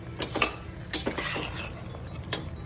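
Rice tipped into a pot of soybean pulao and stirred with a metal spoon, giving a few light clinks and scraping strokes against the pot, close and fairly quiet, with no talking.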